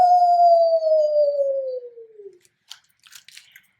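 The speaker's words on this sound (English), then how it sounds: "Have you ever heard a coyote singing on a starry night?" A coyote gives a single long, clear howl that slides slowly downward in pitch and fades out, followed by a few faint soft clicks and rustles.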